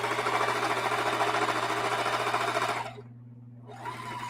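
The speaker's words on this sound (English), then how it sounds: "Then I'm going to sew the next strip on here." A sewing machine runs steadily as it stitches quilt strips together, a fast, even mechanical whirr that stops abruptly near the end and then briefly starts again.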